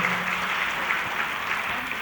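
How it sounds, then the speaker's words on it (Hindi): An audience claps loudly and continuously at a large jubilee felicitation ceremony in Kerala, a dense, steady patter of applause throughout. "जोर से ताली बजाओ"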